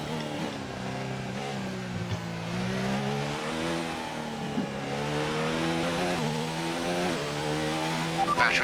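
Formula 1 race car engine in a video game lapping Silverstone on intermediate tires, a loud continuous high-pitched whine rising and falling through gear changes, steady and close throughout.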